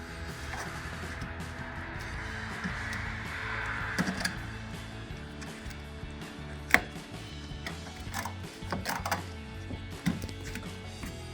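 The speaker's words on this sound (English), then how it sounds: "We're going to snap it in the curved area and kind of chase it around to the straight side." A clear plastic section of an S&B cold air intake on a 2019-2023 Chevrolet Silverado or GMC Sierra 1500 is snapped into place, producing a few sharp, close plastic clicks and snaps over a low background hum.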